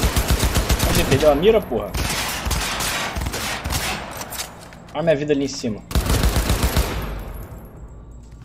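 Rapid bursts of automatic gunfire in the Cyberpunk 2077 video game, loud and repeated in volleys with short gaps, while someone talks excitedly over the shooting.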